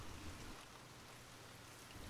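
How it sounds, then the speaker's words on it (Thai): Heavy rain falling outside a cozy café, a soft, steady, even hiss of rainfall heard faintly and alone with no voices. "ดูเหมือนฝนจะตกหนักขึ้นอีกนะเนี่ย"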